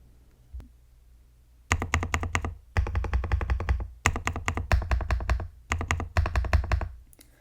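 Close, crisp clacking of a KN85 mechanical keyboard fitted with new keycaps, typed in several quick bursts separated by short pauses after a single faint tap at the start.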